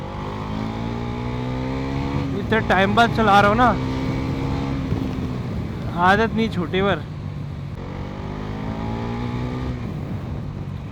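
A Bajaj Pulsar NS400 motorcycle engine hums steadily while riding, with two short rising revs in the middle, under someone talking.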